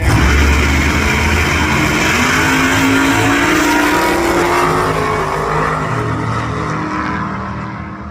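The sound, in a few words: supercharged Holden HJ Monaro race car at drag track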